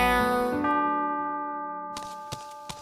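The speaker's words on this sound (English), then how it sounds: "The clock struck 12." A clock bell in a cartoon rings out with a single long, resonant tone that slowly fades, followed by a few faint clicks.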